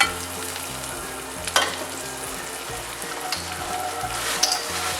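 Sage leaves and a non-spicy Betki chili fry in butter, a close steady sizzle with crackling bubbles and occasional sharp pops and stirring knocks, continuous and moderately loud with nobody talking.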